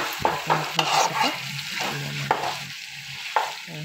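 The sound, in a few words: meat frying in an old wok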